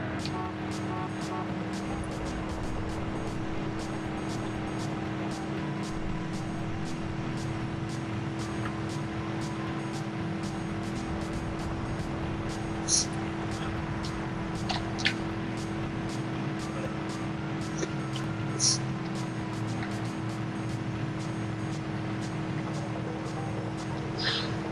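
A limousine in Driver 2 drives with a steady, droning engine hum that holds an even level throughout, broken only by a few faint clicks and ticks.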